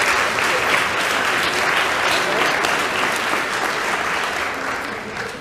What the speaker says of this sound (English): another round of applause for Heirloom Rustic Ales